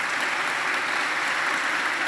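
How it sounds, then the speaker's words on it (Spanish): Steady, dense applause from a church congregation during a solemn Easter-season Mass award moment, loud and continuous throughout with no talking over it. "Un aplauso para Melanie."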